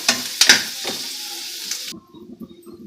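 Dense crackling sizzle of dry fruits frying in hot fat in a pan, with a few clinks of stirring, then the sizzle cuts out and quieter low bubbling of heating milk follows.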